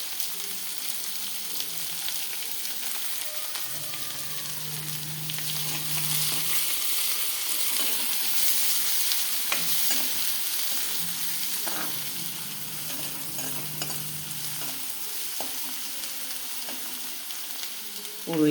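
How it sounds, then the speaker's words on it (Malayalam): Chopped onions sautéing in hot oil with mustard seeds, giving a continuous frying sizzle with intermittent stirring clatter and a low hum in the background. "ഉള്ളി അരിഞ്ഞിട്ട് ഒന്ന് വഴലണം"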